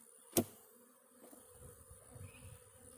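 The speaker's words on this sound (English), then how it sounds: "I'm just going to shake these bees off of here." Honey bees being shaken off a two-frame funnel feeder: a single sharp knock, then a faint, scattered buzzing of insects nearby.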